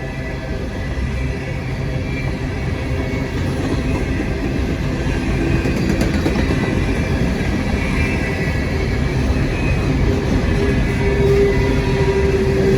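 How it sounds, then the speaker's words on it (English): An empty coal train rumbles steadily past, a continuous loud roll of wheels on rails with faint rattling, no voices. "Empty coal train coming through."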